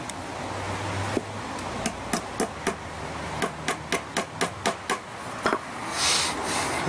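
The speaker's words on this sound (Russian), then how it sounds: "Металл тонкий, пробивается гвоздиками легко." Small nails are hammered through the thin metal blade of an old tape measure, a close series of about a dozen sharp, evenly paced hammer strikes with a bright metallic edge over a faint background hum.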